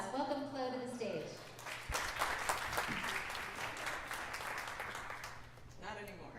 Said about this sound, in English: Maybe if we give her enough applause.